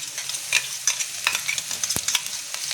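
Ground spice paste (vaatan) frying in a pan over browned onion for pithla bhakri, with repeated scraping stirs and a steady soft sizzle, close and fairly quiet, no talk.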